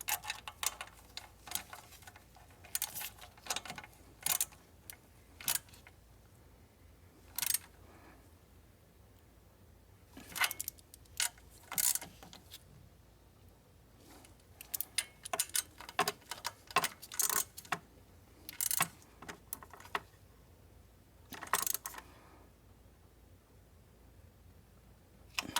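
Ratchet or wrench tightening thermostat bolts on a Mercedes Sprinter, sharp close metallic clicks in irregular bursts separated by quiet pauses, no talk.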